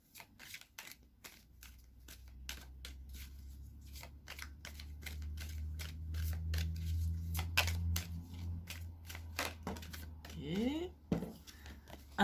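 Tarot cards are shuffled and drawn in a steady run of soft, close card flicks and riffles, with a quiet voice murmuring underneath the whole time.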